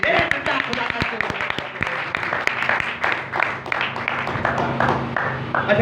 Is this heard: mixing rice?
no